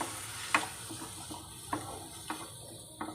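Onions sizzle in oil in a kadai for village-style egg masala, a steady, fairly quiet frying hiss broken by several clinks and scrapes of stirring, with no talking.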